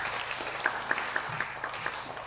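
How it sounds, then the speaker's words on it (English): Brief scattered clapping from a seminar audience, a modest ragged round of applause heard at moderate distance in a hall. "Please clap for yourself."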